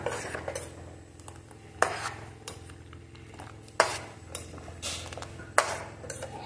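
Spoon stirring thick rabdi in a metal pot, with repeated scraping and clinking strokes and three sharp metallic knocks against the rim, close and fairly quiet.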